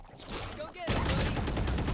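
Rapid automatic gunfire in the Valorant video game, a dense burst of shots that starts partway through and keeps going, loud and up front, over faint voice chat.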